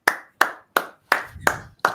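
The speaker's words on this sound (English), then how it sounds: "If you're happy and clap your hands." Six sharp hand claps ring out in a steady, evenly spaced rhythm, close and clear, with a faint murmur under one of them.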